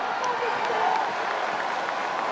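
Large college baseball crowd at Plainsman Park during an Auburn Super Regional game, cheering and applauding steadily as a dense, even roar with no break.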